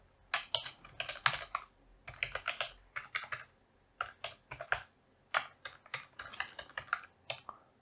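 Computer keyboard clattering as Arduino code for an IR remote project is typed, with close, quick bursts of keystrokes broken by short pauses and no talking.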